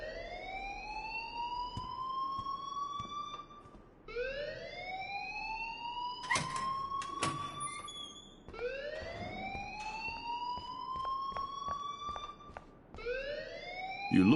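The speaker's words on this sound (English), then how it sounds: "please turn off that alarm since that's your job" An alarm in the video game Life Is Strange rings close and loud, rising whooping tones that repeat about every four seconds, with a burst of clatter partway through.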